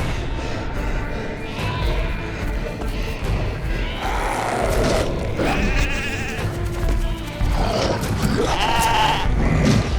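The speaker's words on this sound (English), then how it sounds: "My father had pinned up all the sheep." Sheep penned up behind a locked gate bleat several times, their calls rising over a steady rural background with a faint buzz of flies throughout.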